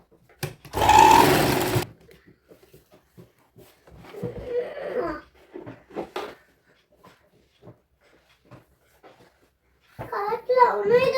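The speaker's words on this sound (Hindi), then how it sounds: "अब हम एक प्रेस सिलाई लगा देंगे इस पर।" A domestic sewing machine runs a short burst of press stitching along a fabric strip for a child's frock, loud and close, followed by quiet handling noises and a voice talking.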